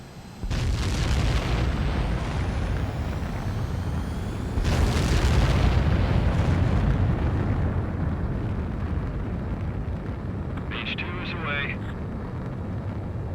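Fighter jet takeoff in the video game Ace Combat 7: Skies Unknown, a loud, sustained engine roar that surges again midway and stays strong throughout, with a brief radio-like voice near the end.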